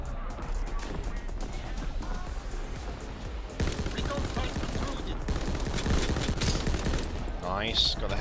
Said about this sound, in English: Artillery, let's get this bad boy in the game.